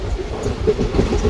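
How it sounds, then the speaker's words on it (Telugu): A brief stretch of the Chennai SF Express 12604 running on railway track, dense low rumble with regular clacking pulses from the wheels, steady and close with no speech. "ఈ రైల్వే ట్రాక్స్ సౌండ్ విన్నా కూడా మంచి రిలాక్సేషన్ అనిపిస్తుంది నాకైతే."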